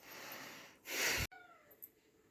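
A cat gives a faint, breathy vocalisation against soft room noise in a home workshop where a vertical planter is being built with screws and a drill.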